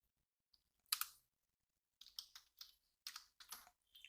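A computer keyboard clatters as JavaScript code is typed: one sharp key strike, then short bursts of quiet clicks, faint and close, with no voices.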